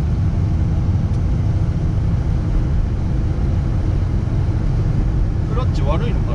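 A Ferrari F360 Modena with F1 gearbox drives along, its engine droning steadily and loud from inside the cabin, with a faint voice speaking near the end.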